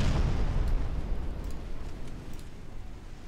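Ammunition detonation of a ship in a naval warship game: a loud, low booming blast right at the start that rolls into a long rumbling decay with crackling debris, no speech over it.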